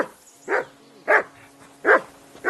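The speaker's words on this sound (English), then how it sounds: "that mutt of yours to stop barking" A dog barks four times in separate, evenly spaced single barks, fairly close and loud, with a faint steady hum underneath and no talking.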